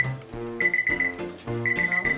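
A claw-machine style alarm clock going off, playing a loud, repeating electronic melody of bright beeping tones in a steady looping pattern, with no voices over it.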